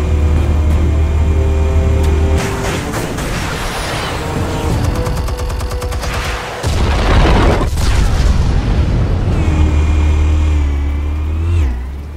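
Planted explosives detonate in Batman: The Telltale Series with deep booming bursts over a low engine-like drone, the loudest rumbling blast landing near the middle, followed by a fading hum.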